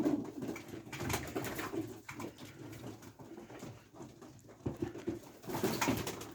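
Pigeons bathing in shallow lukewarm water in a loft compartment give low, soft cooing over splashing and rustling, fairly faint and continuous, with no talk.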